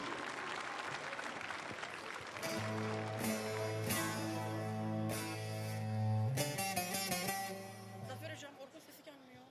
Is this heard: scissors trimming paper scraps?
no